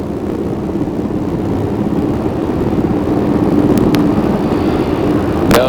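Black Hawk helicopters fly low over a beach at a D-Day 50th anniversary event, making a loud, steady rotor and engine roar that fills the scene, with a few brief clicks.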